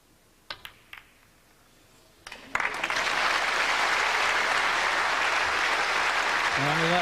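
A snooker crowd at the 1990 UK Championship final between Hendry and Davis breaks into applause after a few scattered early claps, swelling into a loud, sustained ovation that fills the hall.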